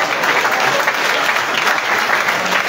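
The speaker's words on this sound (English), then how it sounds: "I thought you were clapping for our church leaders" Church congregation applauding at a fast and prayer day service in Liberia. Dense, steady clapping from many hands fills the space, loud and sustained throughout.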